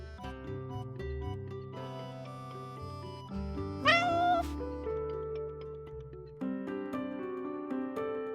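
A cat in a video game gives a high, wavering meow over soft, sustained background music, fairly quiet, with no talking.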